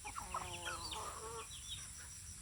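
Hen arriving with her three chicks: a run of rapid clucks early on, then quieter high chick peeps trailing off over a steady background hum.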